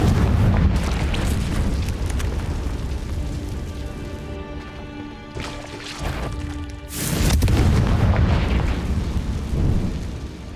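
Confringo blasting spells explode in the Hogwarts Legacy video game, with loud rumbling blasts and a sustained fiery roar that dips briefly midway, then surges again in a heavy boom.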